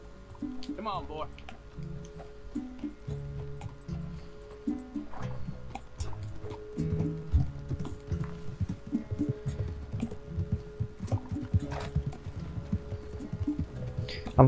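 Horse hooves clip-clop steadily in Red Dead Redemption 2 as a rider sets off, the rhythmic clatter continuing under spoken talk.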